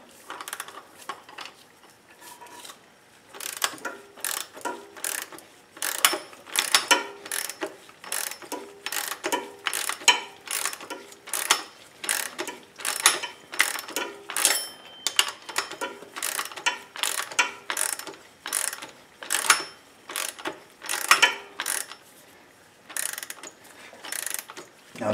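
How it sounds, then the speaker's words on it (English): A big nut is run down a shaft to press a pulley onto an engine pump, producing a long series of rapid metallic ratcheting clicks in bursts, close and fairly loud, with no talking. "run the big nut down and push the pump pulley"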